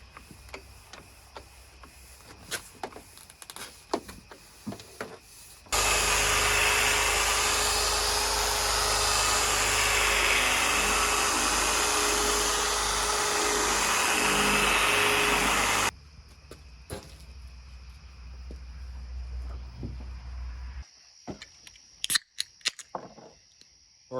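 Electric polisher buffing rough paint on a Duramax Silverado truck, a loud steady whirring whine lasting about ten seconds before cutting off, surrounded by quiet handling clicks and knocks.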